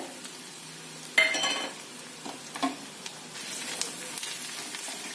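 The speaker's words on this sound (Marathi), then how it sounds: "हळद आणि आपण लसूण जिरे आणि तिखटाचं जे ठेचून घेतलेलं आहे ते घालायचं" Turmeric, crushed garlic, cumin and chilli frying in a pan on low heat: a soft, continuous sizzle, a sudden clatter as the spices go in, then light stirring scrapes and taps.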